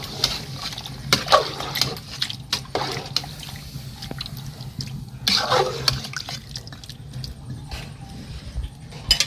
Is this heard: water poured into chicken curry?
yes